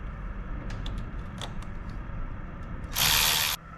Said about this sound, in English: I'm going to take off the nut.